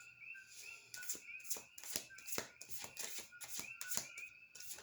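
Cards are laid down one after another in a quiet run of soft, snappy slaps, while faint chirps sound in the background.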